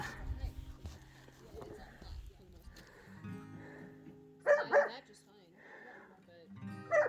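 Dogs bark in short bursts outdoors on a mountain hillside at about 8,000 feet, with two louder barks standing out over steady talk and animal noise.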